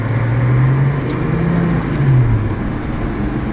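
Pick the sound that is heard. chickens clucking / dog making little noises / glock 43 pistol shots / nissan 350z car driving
nissan 350z car driving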